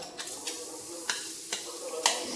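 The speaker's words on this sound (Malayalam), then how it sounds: "ഈ തേങ്ങ ഞാൻ ക്രഷ് ചെയ്ത് കൊണ്ടുവന്നിട്ട് നമുക്കിതൊന്ന് ഇട്ട് കൊടുക്കാം" Crushed coconut roasts in a frying pan with a steady sizzle, and a spoon scrapes through it in several sharp, evenly spaced strokes, close up with no voices.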